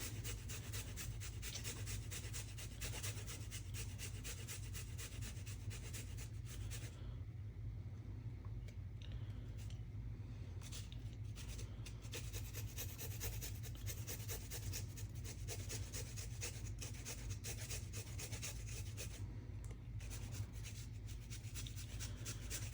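Fresh ginger is rubbed rapidly across a grater in a continuous run of quick, close, quiet rasping strokes with a brief lull partway through, heard alone without talk.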